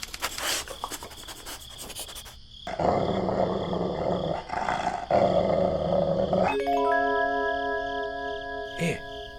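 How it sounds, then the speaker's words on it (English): A deep, rumbling animal growl rolls on for several seconds over a dark, atmospheric score in a cinematic tabletop war game, loud and close, with a brief sharp hit near the end. "Here, you think that growling's meant for us?"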